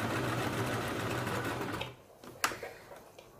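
A sewing machine stitching a blouse runs in a fast, steady mechanical whir for about two seconds, then stops, followed by a couple of sharp clicks and light handling sounds nearby.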